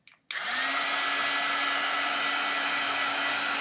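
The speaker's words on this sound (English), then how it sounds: "Might as well just use a heat gun really quick" Heat gun switches on after a brief quiet moment and blows steadily at full strength, a loud continuous rushing roar with a faint whine, aimed at a woven bracelet from a bracelet kit.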